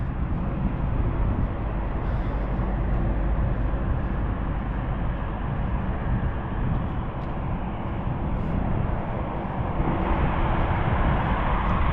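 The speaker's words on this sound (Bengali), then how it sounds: "বিমানটাও আগাচ্ছে" Aircraft taxiing at London City Airport, a low steady engine rumble and roar that holds constant throughout, heard from nearby at ground level with no talk.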